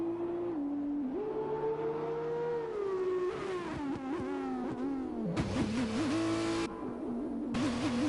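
F2 race cars in F1 2021 at Bahrain, high-revving engines whining up and down through corners as several cars pass, with gear changes and brief tyre noise, no talk.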